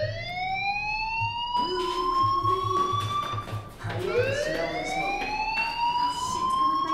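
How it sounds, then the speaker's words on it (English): A school fire alarm in the video game Life Is Strange wails in a rising and falling siren tone, repeating steadily and fairly loud over quiet game background noise. "do you hear that fire alarm?"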